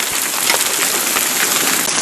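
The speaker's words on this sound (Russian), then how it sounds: "Градины" Small 2–3 mm hailstones pattering steadily on surfaces during a spring snow-and-hail shower in sunshine, a dense, even rattle with no talk.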